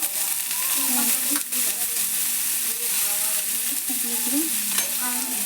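Chicken tikki frying in oil in a pan, a steady close sizzle that runs through the whole stretch with faint stirring clinks and no talk over it.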